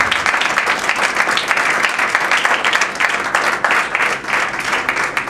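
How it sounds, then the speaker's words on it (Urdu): A church congregation claps loudly and steadily for Lord Jesus Christ, a dense, continuous burst of many hands filling the room with no voices over it. "خداوند یسوع مسیح کے لیے زوردار تالی"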